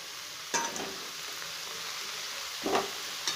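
Steady sizzling of spinach frying in a pan, broken by a few louder scrapes and clatters as a spatula stirs it, no talking.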